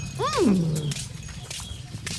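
On a farm near a cattle pen, a single dog barks once, a short rising-and-falling yelp, loud and close over steady outdoor background noise.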